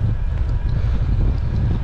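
Continuous gusty wind buffeting the microphone on a bike ride near Windermere and Troutbeck, a low rumbling roar with no voices.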